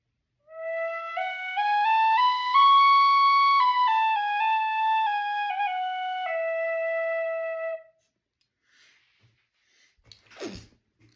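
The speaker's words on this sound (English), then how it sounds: "this whistle has the cleanest and smoothest low range I've ever heard" An Eb Generation tin whistle plays a slow, clean melody in its low register, sustained notes rising and falling for about seven seconds, followed by silence and a brief breathy sniff.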